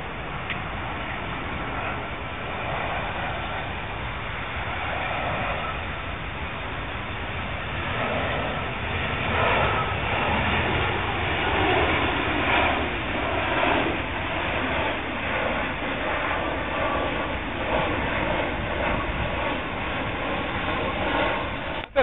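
A low-flying airplane passes overhead in Washington, a broad steady engine roar that swells gradually and holds loud throughout with no talk.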